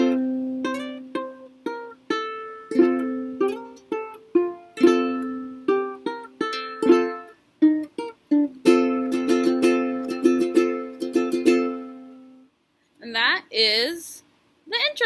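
A ukulele plays a song's intro riff in full, including the end riff, with clear plucked notes ringing in a lilting rhythm for about twelve seconds, followed by brief squeaky finger noise.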